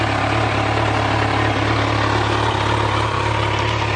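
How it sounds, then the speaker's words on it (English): A brand new motorcycle idles through its exhaust, a steady close low rumble with an even throb and no revving, heard alone. "The exhaust has a great sound to it."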